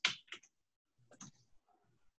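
Keys clicking on a computer keyboard while an email address is typed: a quick cluster of sharp, close taps, then a brief pause and a few softer, scattered keystrokes.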